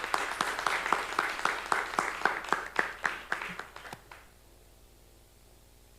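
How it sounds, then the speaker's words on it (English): Applause at a national health research conference, thin and sparse with individual claps distinct, tapering off and ending abruptly after about four seconds into near silence. "can we have a round of applause for our first two presenters?"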